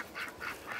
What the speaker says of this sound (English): All the ducks laying down sleeping.